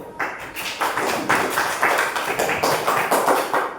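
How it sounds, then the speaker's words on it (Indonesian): Students in a classroom give group 1 a round of applause, heard as brisk, even clapping from many hands that continues steadily and fairly loud throughout, with no voices on top. "Tepuk tangan untuk kelompok 1"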